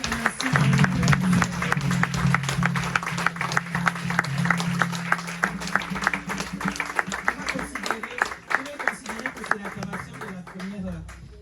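A crowd at a women's church conference breaks into sustained, dense applause and cheering acclamation, with rhythmic clapping that stays loud throughout and faint voices mixed in.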